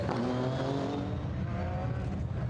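GT1 race cars, including Porsches, McLarens, a Ferrari and a Lotus, roar past nearby at Goodwood, engines droning and shifting pitch as they go by in a continuous loud stream.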